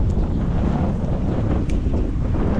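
Strong wind blows outdoors at a tree-felling site, rumbling loudly and steadily across the microphone with no break and no voices.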